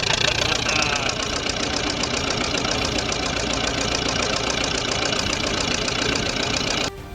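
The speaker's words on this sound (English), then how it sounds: "There's something raw and satisfying about watching a Lister 4-cylinder come to life, all started by hand." Lister 4-cylinder stationary diesel engine running after a hand start: a loud, close, rough rumble with rapid even knocking firing pulses, continuous throughout and cutting down slightly at the very end.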